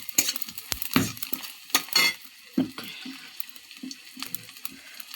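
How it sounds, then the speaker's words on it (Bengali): Onions fry in oil with cumin seeds and bay leaves in a kadai, giving a soft sizzle broken by scattered clinks and scrapes of stirring, close and fairly quiet. "পেঁয়াজটা কড়ার মধ্যে দিয়ে লাল লাল করে ভেজে নিচ্ছি"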